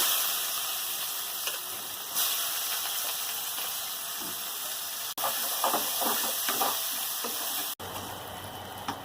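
Onions frying in leftover meat oil for chicken biryani make a continuous bright hiss and sizzle at close range, with a few faint clinks and two sharp breaks in the sound.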